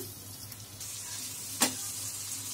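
Chopped onion fries in rice bran oil with a soft, continuous sizzle, broken by one brief clatter of stirring midway.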